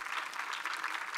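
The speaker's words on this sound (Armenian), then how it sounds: "բայց եկեք ծափահարենք նրան։" Audience applause at the 2021 Aurora Prize event in Venice, with a steady, dense clapping from a crowd that holds evenly through the whole brief moment, with no voices over it.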